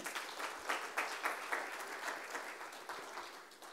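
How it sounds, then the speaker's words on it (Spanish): Congregation applauding during a Spanish-language church sermon, a steady dense clapping of many hands that swells in short bursts and continues throughout without talk. "Démosles un aplauso al Señor."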